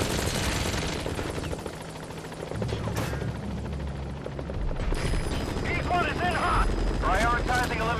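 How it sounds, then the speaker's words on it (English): Helicopter in the video game Metal Gear Solid V: The Phantom Pain, a steady rotor drone under gunfire bursts and game effects, with voices talking over it throughout. "Take out the chopper, bro."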